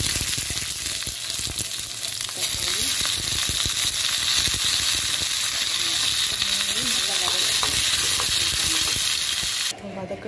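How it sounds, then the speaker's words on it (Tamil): Onion, tomato and green chilli fry in hot oil for idli sambar, a loud, continuous close-up sizzle with faint stirring scrapes underneath that holds steady until it cuts off abruptly near the end. "எண்ணெய் காஞ்சோண்டு வெங்காயம், தக்காளி, பச்சை மிளகாய் போடலாம்."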